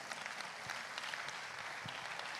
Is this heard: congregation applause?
yes